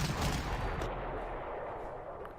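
Artillery and gunfire from the Panzer Corps strategy video game make a dense, steady roar of booming blasts and rumble that fades slightly, heard alone without speech.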